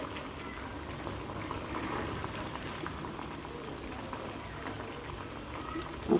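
Pieces of taro root (chama dumpa) fry in hot oil, a steady, fairly quiet bubbling hiss that runs evenly throughout with no talk, ending on a faint clink.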